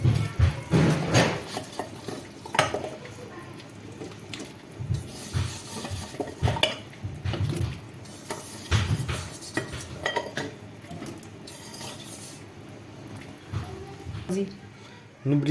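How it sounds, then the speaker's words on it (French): Carrots and turnips go into a couscous pot, with clinks of metal utensils and pot knocks scattered through steady nearby kitchen clatter, under a voice talking throughout. "Maintenant, on va rajouter les carottes et les navets."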